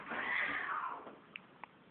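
A cat lets out one long, drawn-out yowl close up, followed by two faint brief clicks.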